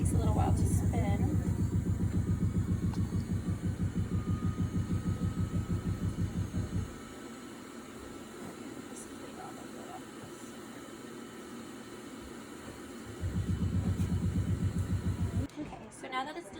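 A hematocrit centrifuge spins tubes in a veterinary lab, a loud, fast, pulsing whir that drops away for several seconds and then resumes, with people talking over it.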